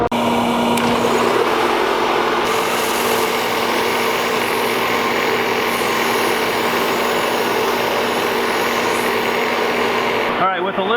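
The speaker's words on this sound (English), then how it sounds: "just hold even pressure across the belt sander and clean up all that snipe" A belt sander with a 150-grit belt grinds steadily across a cabinet panel, a loud continuous whirring roar close up with slight shifts in pitch as pressure changes, cutting off at the end.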